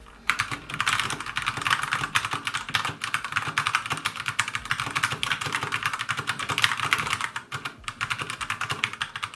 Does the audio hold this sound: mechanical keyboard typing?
yes